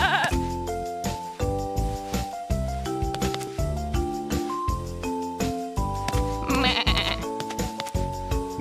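A cartoon goat bleats loudly over a bouncy musical background in a Sesame Street treat-feeding video game, with several wavering bleats in a row.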